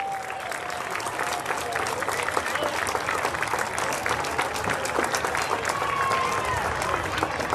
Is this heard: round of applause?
yes